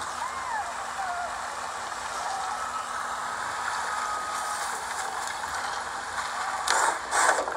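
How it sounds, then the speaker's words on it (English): A blade is sharpened in the video game Ghost of Tsushima: faint, repeated scraping strokes under a soft ambient bed, with two brighter, sharper strokes near the end. "Someone was sharpening their blade."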